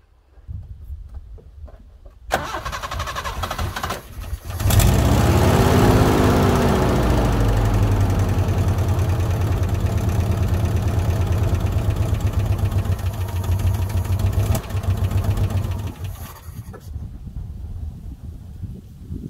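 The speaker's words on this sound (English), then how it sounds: "Let's fire it back up and let it run for a little longer now." A Subaru Brat engine, its carburetor short on fuel, cranks and catches, then rises to a louder steady idle that runs evenly for about twelve seconds before cutting off, close and alone with no talk.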